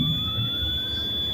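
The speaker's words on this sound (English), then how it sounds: "That buzzer you can hear is to remind me that the body is up" A tipper truck's body-up warning buzzer sounds while the tipper body is raised, a steady continuous electronic tone held through the whole stretch over low engine rumble.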